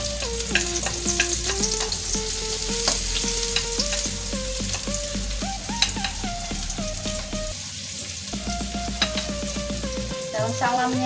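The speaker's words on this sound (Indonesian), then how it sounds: "Kita tumis-tumis dulu nih perbawangannya ya." Shallots, garlic and crushed galangal sizzle and crackle steadily in hot oil as they are stir-fried, with frequent clinks and scrapes of a spatula against the pan throughout, close and continuous.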